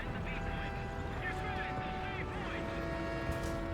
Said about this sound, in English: engine noise that may be bad guys